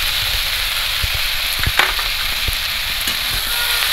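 Turmeric, onion and coriander paste fries in hot oil, a loud, continuous close sizzle with faint scraping stirs throughout.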